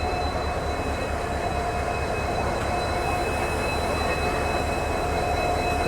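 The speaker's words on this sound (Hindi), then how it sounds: "EMD का ये जो आती है ना हमिंग साउंड, बहुत प्यारी लगती है यार" EMD WDP 4D diesel locomotive no. 40125 hauling the Rajasthan Sampark Kranti Express, a steady loud humming drone with rolling rail noise and a faint whine, continuous throughout with no talk.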